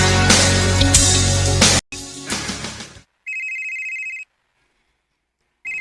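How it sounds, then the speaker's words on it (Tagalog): A mobile phone rings with an electronic ringtone, heard as steady tonal bursts that start and stop after a stretch of loud, busy noise, and then begin again. "Kanina raman ni nagsigig-ring ang phone ni Mama."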